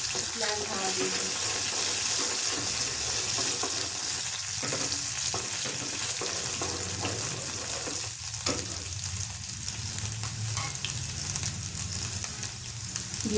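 Garlic frying in hot oil as a tempering for Rajasthani palak khichdi gives a continuous, close sizzle with occasional stirring clicks throughout.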